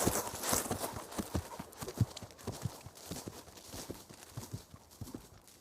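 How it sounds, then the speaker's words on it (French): A small troop of horses with riders approaches, hooves clip-clopping in a steady irregular beat with an occasional neigh, moderately close and without speech. "Un hennissement de cheval et bientôt une petite troupe de cavaliers arriva à proximité."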